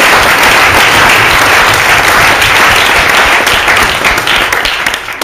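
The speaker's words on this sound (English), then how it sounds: "So can we get a round of applause?" Wedding guests applaud during the groom's speech, a loud, dense roar of many hands clapping close by. It holds steady for several seconds before thinning out near the end.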